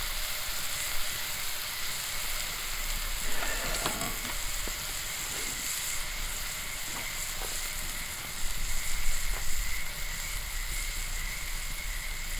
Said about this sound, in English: going to cook this New York strip over an open fire in cast iron, actually